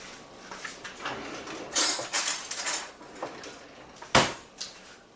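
Cutlery clinks and rattles as a butter knife is grabbed in a home kitchen during banana cream pie prep, with a few scattered metallic clacks and one sharp, close knock near the end.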